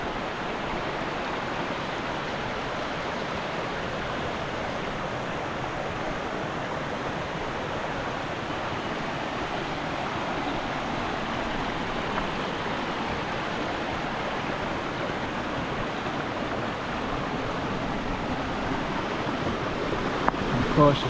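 The Lesmurdie Falls waterfall near Perth flows freely, giving a steady, even rush of falling water that stays constant and moderately distant throughout.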